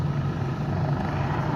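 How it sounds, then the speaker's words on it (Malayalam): A rescue helicopter flies over the Wicklow Mountains in Ireland, heard as a steady, moderately distant rotor drone with no talking. "അത് മറ്റേ റെസ്ക്യൂ ഹെലികോപ്റ്റർ"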